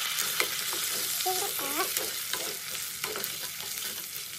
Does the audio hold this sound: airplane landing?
no